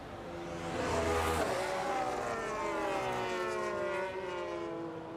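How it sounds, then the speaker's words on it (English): Racing game cars at Monza drone past in a steady, sustained engine whine, the pitch sweeping up and down with gear shifts, loud and continuous throughout without talk. "I can hear that the other cars are a bit too loud"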